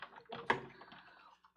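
Tarot cards being shuffled by hand, a quick close run of riffling card clicks with one sharper snap, then a brief pause and a few soft taps.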